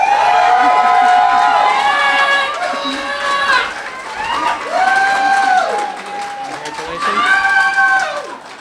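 A crowd at a spring adult education graduation ceremony cheers and whoops in repeated rising bursts, loud and close, with shouting voices and applause mixed throughout.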